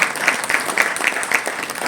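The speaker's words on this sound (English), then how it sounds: "A big round of applause." Applause from the crowd at the launch of a women's handball league is a brief, lively burst of many hands clapping with a loose rhythmic pulse, fairly close and loud throughout.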